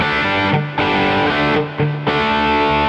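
High-gain electric guitar through a Diezel Herbert amp on channel 2, with delay and reverb added, chugs out loud, dense distorted chords in short phrases with brief choked gaps between them.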